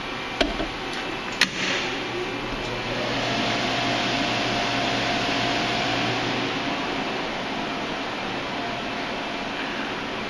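A Hurco twin-screen CNC machine powering up after its main power is switched on, with two sharp clicks and then a steady, loud whirring hum that builds slightly and holds.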